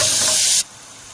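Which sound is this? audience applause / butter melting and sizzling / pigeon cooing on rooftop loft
butter melting and sizzling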